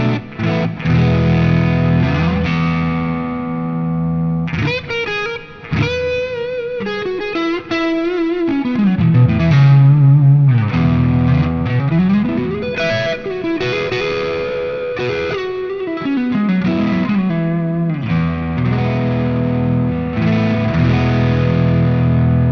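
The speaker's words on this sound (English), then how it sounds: "I'll chuck on a bit of reverb because it sounds really nice." Sustained electric guitar chords and sliding notes, played through the Mercuriall SS 11X amp simulator, ring out with a lush, washy reverb tail, loud and continuous throughout.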